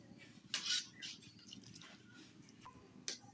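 Soft scraping and clinking of a spoon stirring thickening vegetable and mutton soup in a pot, heard as a few faint strokes against a low background hum.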